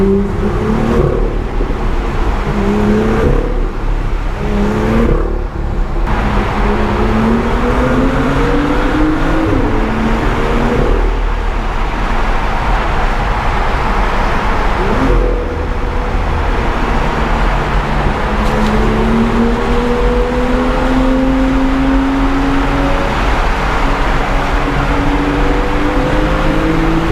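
BMW M2 engine driving through city streets and a tunnel, a loud, close, continuous drone whose pitch rises and falls through repeated accelerations and gear changes, with no voices.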